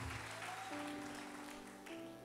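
A church congregation claps steadily for a few seconds, a soft, even wash of applause mixed with sustained musical tones in the background.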